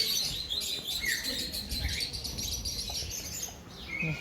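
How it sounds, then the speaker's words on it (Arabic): Small birds in a zoo enclosure, a steady stream of high, thin chirps and tweets over a constant background hum, moderately close, with faint voices nearby. "كلها عصافير."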